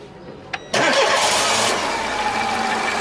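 A car engine cranks and starts after its motor was replaced, with a short click before a loud catch that settles into a steady, close idle.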